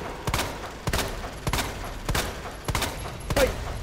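Single gunshots in the Resident Evil 2 Remake video game ring out at a steady pace, roughly one every half second, sharp and fairly close over a low background hum.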